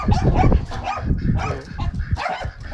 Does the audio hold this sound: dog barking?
yes